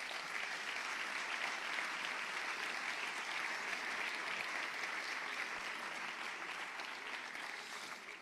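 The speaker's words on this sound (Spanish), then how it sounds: "Un aplauso para todos." Sustained applause from an audience at a sports gala in Béjar fills the hall, a dense, steady wash of clapping that holds at an even level throughout and thins slightly toward the end.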